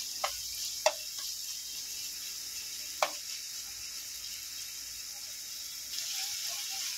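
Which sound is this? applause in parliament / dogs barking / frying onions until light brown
frying onions until light brown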